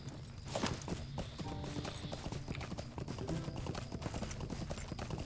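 Steady clip-clop of horse hooves at a walking pace in the game The Lord of the Rings Online, close and continuous, with a busy layer of game background sound.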